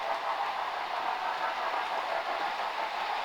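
A small model railway Toby the Tram engine, modelled on the Thomas character, runs along the track with a steady, fairly loud whirring mechanical hum and faint clatter, continuous and even throughout.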